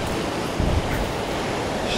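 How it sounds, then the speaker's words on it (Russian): Sea waves break on a beach in Alanya's Oba district, a broad continuous wash of surf with a brief heavier surge near the start. Wind buffets the microphone, and there is no talk. "Такие вот волны сегодня опять у нас."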